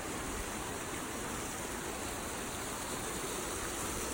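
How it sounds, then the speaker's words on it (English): Splashing water fountain at a mall, a steady dense rush of falling water that fills the whole stretch evenly and close, with no voices over it. "I will never get tired of this water fountain."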